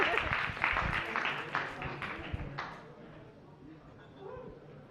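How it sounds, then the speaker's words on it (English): An audience claps for a coding bootcamp team at a demo day, loud sharp claps in the first half fading out, with talking through the clip. "can you give them a very big round of applause for Snappy Pics?"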